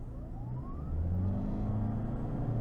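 A 2021 Toyota Corolla Hybrid accelerating hard from a standstill toward 60 mph, its engine drone climbing steadily in pitch and growing louder as it builds revs, heard from inside the cabin with no talking.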